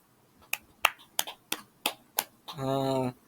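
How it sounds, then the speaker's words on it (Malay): Several sharp, separate hand claps ring out in a sparse, uneven rhythm as a class applauds a student, followed by a brief sustained tonal sound at the end. "Semua tepuk tangan untuk Mei."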